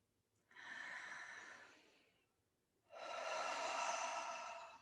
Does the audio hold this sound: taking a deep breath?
yes